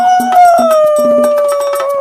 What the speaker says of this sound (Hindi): ये देख आदतवश वो लोमड़ भी लोमड़ियों के सुर में सुर मिलाकर चिल्लाने लगा।